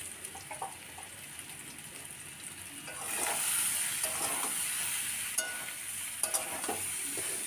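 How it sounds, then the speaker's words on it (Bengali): Potato and taro pieces fry in a hot pan, a steady oily sizzle that swells louder partway through, broken by occasional stirring scrapes and small pops, with no voices. "এইদিকে আমার আলু কচু ভাজা হয়ে গেছে।"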